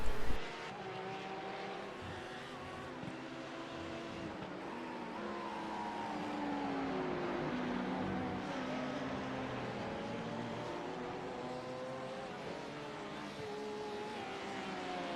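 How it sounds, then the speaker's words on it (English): Porsche Cayman SP10-class race car engine in a sim racing endurance race, a steady droning whine with shifting harmonic tones as revs rise and fall, continuous and fairly distant throughout. "Might be an SP10 Porsche. I think, looking at the speed difference, yes it is. It's a Cayman."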